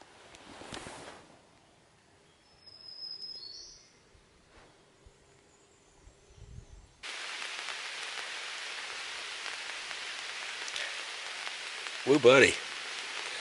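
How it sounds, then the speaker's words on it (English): Light morning rain patters steadily in Linville Gorge, a soft, even hiss that begins midway and continues to the end, preceded by a few brief spoken words and quiet movement. "The pitter-patter of a little bit of rain this morning"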